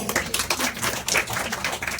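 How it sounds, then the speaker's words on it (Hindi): A small group of parents and students claps briefly at an orientation gathering, a quick patter of hand claps at moderate volume, with no voices. "तालियां बजाओ।"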